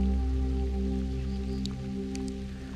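Steady rain patters down on the Paraguay River under a loud, constant droning motor hum, with a few sharper drips standing out.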